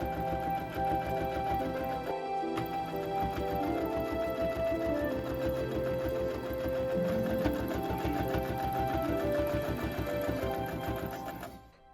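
Rag quilts being stitched on a sewing machine, which runs fast and continuously up close, pausing briefly once and then cutting off at the end.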